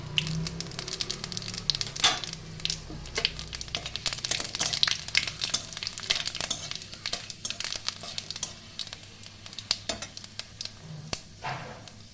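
Dried red chillies and panch phoron sizzle and crackle in hot oil with bay leaves, a steady close frying hiss studded with sharp pops and occasional spoon scrapes throughout.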